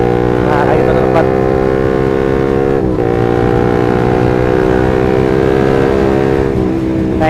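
Manual-clutch motorcycle engine running steadily up close, its pitch dipping and rising several times as gears are shifted quickly during riding practice over speed bumps, red lights and inclines.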